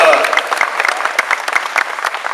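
Applause for a cosplay contestant at Comic-Con Paris fills the hall: dense, steady clapping from a large audience throughout, fairly loud and close.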